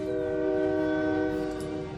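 A train horn sounds a sustained, steady chord in the strategy game Kaiserreich, held at moderate volume for about two seconds over a low rumble.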